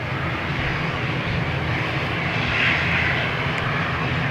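A plane taking off from runway 10 at Dublin Airport, its engine roar steady and loud throughout, swelling slightly toward the middle.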